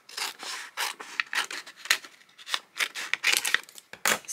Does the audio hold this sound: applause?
no